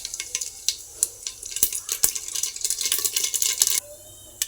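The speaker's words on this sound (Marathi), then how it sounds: "तेल तापलेलं आहे, त्याच्यात मोहरी घालायची," Mustard seeds dropped into hot oil for dal khichdi, crackling and popping in rapid irregular bursts, loud and close, the spatter thinning to near quiet by the end, with no voices.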